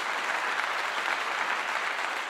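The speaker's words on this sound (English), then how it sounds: "Let me clap you up" Clapping rises as a steady, even wash of many hands, dense and continuous without distinct individual strikes, held at a constant level for a couple of seconds.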